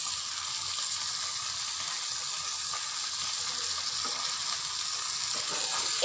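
Pieces of rohu fish cooking with softened tomatoes in a covered pan, giving a steady, even sizzle and hiss throughout with no voice.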